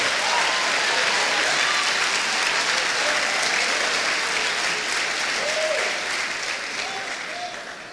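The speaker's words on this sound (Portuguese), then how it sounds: "Pode dar uma salva de palmas ao Senhor" Sustained applause from a church congregation, dense and steady, with a few voices calling out over it before it gradually fades toward the end.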